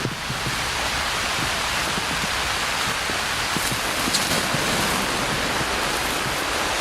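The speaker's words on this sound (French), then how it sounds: "mais là, c'est la grosse pluie" Heavy rain pours down on a summer garden, a dense and steady hiss dotted with close drips and patters on surfaces, loud and unbroken throughout.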